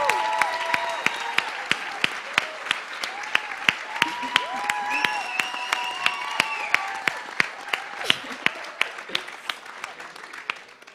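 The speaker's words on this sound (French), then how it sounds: "je demanderai une bonne main d'applaudissements, pour tous les participants" Steady crowd applause at a college student talent show, dense clapping throughout, mixed with shouts and musical tones, gradually thinning toward the end.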